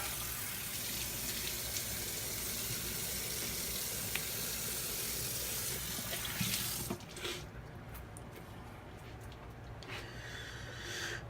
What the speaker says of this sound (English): And put some water on my face.